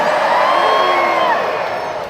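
A lecture crowd cheers and whoops loudly on cue, a dense wash of many voices with rising shouts that gradually fades toward the end.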